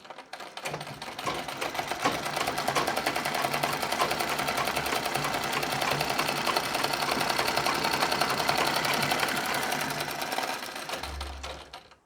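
Sewing machine zigzag stitching through saree fabric, the needle swinging side to side in a steady, rapid mechanical whir that runs close and loud for nearly the whole stretch before stopping, with no voices.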